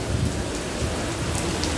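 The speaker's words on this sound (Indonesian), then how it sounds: "Lebat banget hujan ini ya." Heavy tropical rain pours down steadily outdoors, a dense, loud, continuous hiss of drops hitting surfaces with a low rumble underneath and no voices.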